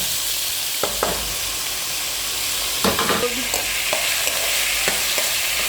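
Vegetables, carrots among them, stir-fried in oil in a pan or pot for spring roll filling: a steady close sizzle runs throughout, broken by scattered scrapes and clacks of stirring.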